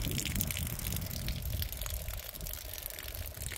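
Water spilling steadily out of fittings installed in a tank, a continuous splashing, pouring flow at close range with a faint constant hum beneath, no voices.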